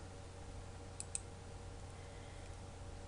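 Two quick, crisp computer mouse clicks in close succession, faint against a steady background hum, with no talking.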